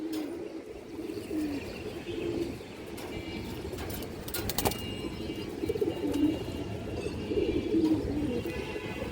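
Indian high-flyer pigeons of an old line coo in low, soft rolling bursts, fairly close, with faint chirps around them and a brief flutter near the middle; no one speaks.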